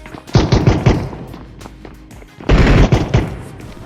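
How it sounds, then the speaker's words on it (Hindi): Honey Badger rifle gunfire in the mobile game BGMI/PUBG, played on a Samsung M14 5G phone: two loud rapid bursts of automatic shots, the first near the start and the second after a short pause, with scattered lighter shots between. "अब नीचे से गन साउंड की आवाज़ आ रही होती है"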